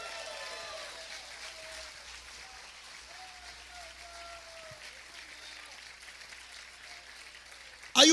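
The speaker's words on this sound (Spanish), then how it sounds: "Alguien puede dar un grito de júbilo y dar un fuerte aplauso a Dios." Congregation applause during a church sermon, a soft and fairly distant wash of clapping heard under faint talk, ending in a sudden loud burst.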